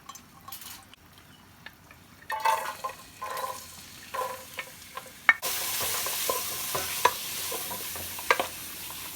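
Chicken starts frying in hot oil in a pan, with a few scrapes and stirs before a loud, steady sizzle suddenly fills the space. Small clinks and stirring noises sit on top of the sizzle, close by, with no talking.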